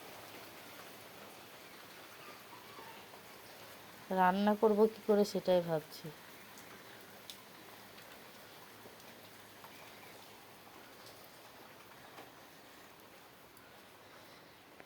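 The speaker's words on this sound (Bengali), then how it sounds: "আজকে সকাল থেকেই বৃষ্টি হচ্ছে" Steady rain falls outside throughout, a soft, continuous hiss heard at low level. A voice speaks briefly over it partway through.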